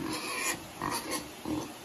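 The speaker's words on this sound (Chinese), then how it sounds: "那边那个小猪已经在叫了" A hungry newborn black piglet squeals and grunts on a farm, several short, shrill, close cries in quick succession with no one speaking.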